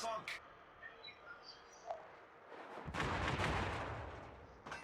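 Heavy main-battery guns of the battleship Colorado fire in a naval combat game, a sustained roaring broadband barrage swelling in the latter half after quieter sounds, with a voice talking throughout.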